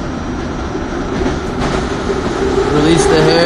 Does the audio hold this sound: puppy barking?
no